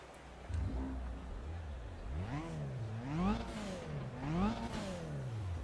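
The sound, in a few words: race car engine starting in video game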